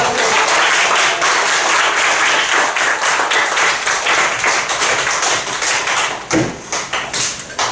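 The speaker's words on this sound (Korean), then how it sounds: "박수 치면서." Middle school students in a classroom applaud at the end of a math lesson, steady close clapping for several seconds that thins into a few louder individual claps and thumps.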